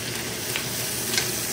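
Fish frying in oil in a home kitchen, giving a steady, close sizzle throughout with faint stirring scrapes and no talk.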